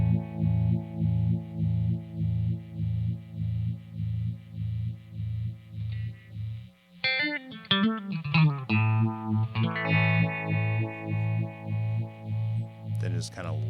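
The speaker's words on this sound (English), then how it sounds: "with a phaser, a really good phaser, just a big open chord" An electric guitar runs through a VFE Junior Phaser pedal, first droning with rhythmic sweeping pulses, then a big open chord struck and strummed, ringing out with swirling phased shimmer and slight distortion.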